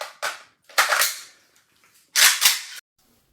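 Kalashnikov rifle firing four sharp, loud shots in an uneven sequence, with a pair close together near the start and another pair close together near the end, and no talking.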